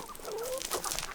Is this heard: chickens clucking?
yes